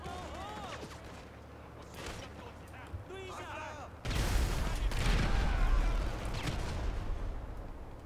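Gunfire and blasts in Grand Theft Auto V during a bank heist, turning loud and dense halfway through, with players talking over the action.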